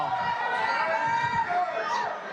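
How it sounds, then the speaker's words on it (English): Dense crowd chatter at a White House reception, many overlapping voices murmuring close by in a busy room, steady and lively throughout. "This is some crowd."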